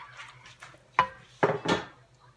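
A utensil stirs chicken into pot pie filling in a cooking pot, giving a few soft scrapes and three sharper clinks against the metal, with no talking.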